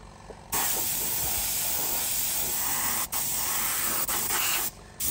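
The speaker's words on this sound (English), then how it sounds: "So I think we've got it all sprayed, so looking quite good." Continuous spraying onto a Jaguar XK8 leather steering wheel during restoration, a loud close hiss in long bursts with two brief breaks and a stop near the end.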